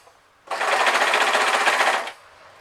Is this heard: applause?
no